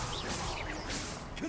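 A spell cast in Hogwarts Legacy lets out a quick swishing whoosh over dense, constant game noise, short and fairly loud with a sharp flick toward the end.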